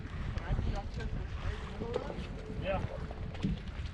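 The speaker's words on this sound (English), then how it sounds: "The wind is killer." Strong wind buffets a boat out on open deep water, rumbling and roaring against the microphone, with water splashing and a person talking loosely over the gusts.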